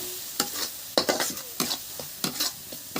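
Ground whole spices (mustard seed, black pepper, cumin, bay leaves, garlic, ginger) stirred in a hot pan for a dish of taro leaves, with a steady sizzle and several sharp scraping strokes of a spoon, close and alone.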